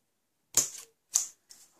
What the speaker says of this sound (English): Oh, I'll have to just trim that one now as well.